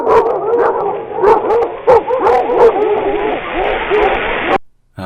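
A pack of hounds howls and yelps in a loud, overlapping chorus of wavering cries and sharp barks, sustained before cutting off abruptly.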